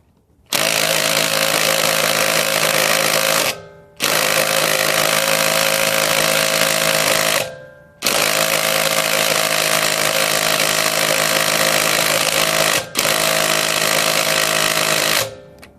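A DeWalt DCF885 impact driver hammers on a lug nut in four long, loud bursts. Each burst lasts a few seconds and is split from the next by a short silence.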